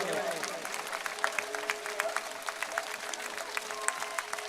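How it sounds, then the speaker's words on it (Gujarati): A crowd at a political rally in Banaskantha claps steadily, dense overlapping applause with a sustained tonal hum from the sound system running underneath. "હું એ જોઉં છું ક્યાં સુધી તાળીઓ પાડો છો પૂરા કરંટ થી તાળીઓ પાડો છો"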